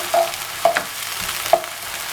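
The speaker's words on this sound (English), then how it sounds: "I'm now frying the onion." Onion frying in a pan with a continuous bright sizzle, loud and close, broken by a few brief stirring clicks and scrapes.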